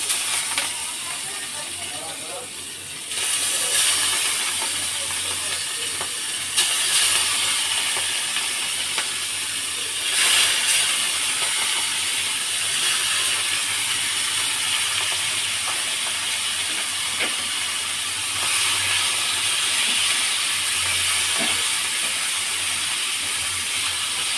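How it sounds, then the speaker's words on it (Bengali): Around 200 grams of washed shrimp for a bottle gourd and shrimp dish fry in hot oil, giving a constant loud hiss and sizzle with occasional crackles throughout. "দুশো গ্রাম মতো চিংড়ি মাছ ছেড়ে দেবো সেগুলো তেলের মধ্যে"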